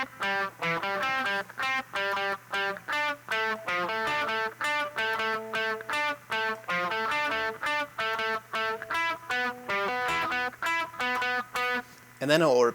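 Electric guitar played through effects, picking the rhythmic chord bridge of a song in steady repeated strums and notes, loud and continuous with a low hum underneath.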